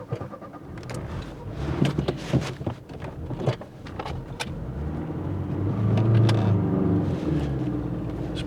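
Opel Ascona with a carburettor engine driving along, a low rumbling engine drone with uneven bumps and clatters early on, then a steadier, louder hum building toward the end, heard from inside the car with no talk.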